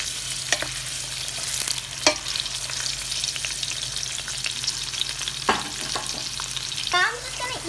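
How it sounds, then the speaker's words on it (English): Onions frying in spiced oil for a chicken curry, a steady broadband sizzle with a few sharp clinks and scrapes of stirring scattered throughout; no voices. "Now we're going to add our onions."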